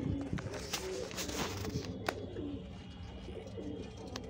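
Soft pigeon cooing in a room, low throaty calls repeating under faint background clatter and a few sharp knocks.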